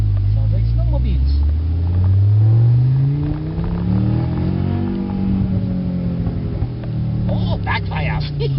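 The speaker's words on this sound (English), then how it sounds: "Oh, backfires." An Audi S4 engine revs repeatedly, its loud, low droning note rising and falling in sweeps, with a few crackling pops late on that suggest backfires.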